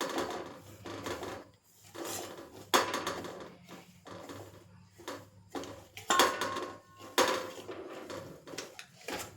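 A spoon scrapes and rasps against a pan as semolina is stirred slowly for vegetable upma, with irregular scraping strokes repeating steadily at close range.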